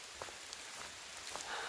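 Steady rain falling in Black Rock Forest, a faint, even patter of drops on leaves and ground with no voices.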